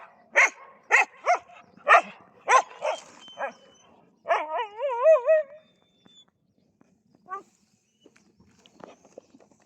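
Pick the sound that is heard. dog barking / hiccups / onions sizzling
dog barking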